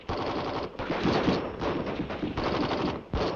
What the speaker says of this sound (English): The M14 rifle is designed for both full automatic and semi-automatic fire